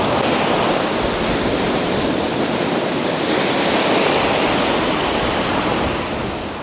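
Sea waves washing onto a Latvian shore of stones and sand, a continuous loud broadband roar of surf with no distinct breaks, slowly easing off at the very end.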